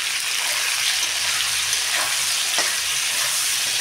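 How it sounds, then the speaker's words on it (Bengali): Ground spices sizzling loudly in a pan after salt is added, a constant crackling fry with occasional stirring scrapes, no talking. "লবণটা দিয়ে আবার একটু ভাজা ভাজা করে নেবো"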